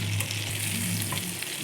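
Tomatoes for thakkali thokku turned over in a frying pan make a loud, close sizzle with a brief soft clatter at the start, then steady frying, no speech.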